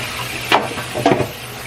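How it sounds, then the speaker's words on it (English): Tap water runs steadily into a kitchen pot being rinsed, a constant hiss broken by two brief splashes and clunks as the pot is moved under the stream. "I need this pot, so I'm going to start rinsing this out."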